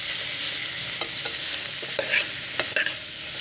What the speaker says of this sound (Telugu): ఇలా సొరకాయ కర్రీ వేసిస్తున్నాను.